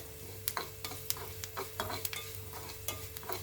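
Fennel and coriander seeds roasting in a pan over a low flame, with quiet sizzling and soft scraping stirs at an uneven rhythm, faint and close.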